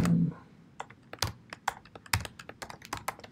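Quick, close keystrokes clatter on a computer keyboard as a command is typed into a command prompt, an irregular burst of sharp clicks with a few heavier key presses.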